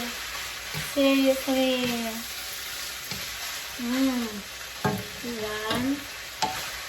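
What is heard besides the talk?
pork being stirred in teriyaki sauce in a pan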